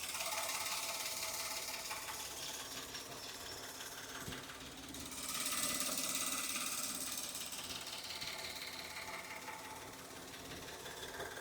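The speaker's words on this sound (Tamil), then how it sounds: "இப்போ இந்த வண்டியோட இன்ஜின் சவுண்ட் எப்படி இருக்குன்றதை மைக்கை பக்கத்தில் வச்சு காட்டுறேன்" A 2017 Maruti Suzuki Celerio automatic petrol engine runs steadily with the microphone close by, a fast, even mechanical ticking over a low hum that swells briefly midway.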